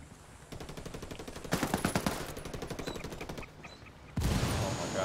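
Automatic gunfire in the video game Ghost Recon Wildlands comes in rapid rattling bursts that swell louder midway, then a sharp burst of noise near the end, with no voices.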